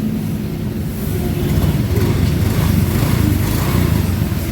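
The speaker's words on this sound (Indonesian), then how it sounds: "Oke, mesin sudah dihidupkan." A Honda Vario scooter engine idles steadily at close range after a water pump seal replacement, a constant low rumble and rattle with no talking.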